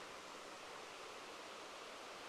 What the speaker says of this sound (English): Just nice to hear the creek.